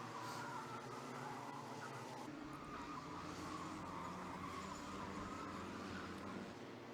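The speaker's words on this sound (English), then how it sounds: "Once again, you can hear these tyres absolutely squealing as the track comes up to temperature." Micro Max cadet racing karts at Ellough Park during a championship final, their tyres squealing as the track warms up, a continuous loud blend of tyre scrub and buzzing two-stroke engines with no pauses.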